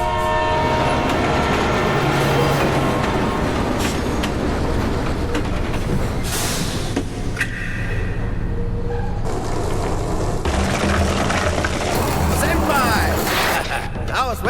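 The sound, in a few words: train riding in video game Let It Die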